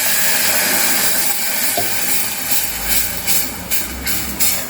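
Yogurt poured into a hot pan with turmeric for Maharashtrian kadhi, giving a loud, steady close hiss that swells in a few bursts near the end.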